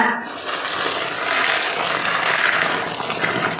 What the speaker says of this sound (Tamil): இப்போ எடுத்து வச்சுருக்க மீன் மேக்கரில் கொதிக்க இருக்கிற தண்ணியை உள்ளே சேர்த்துக்கோங்க.